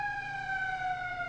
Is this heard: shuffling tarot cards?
no